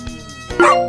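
A cartoon puppy barks once in the Super Why puppy day care video game, a short, bright yip that stands out loud and close after a quieter tonal lead-in.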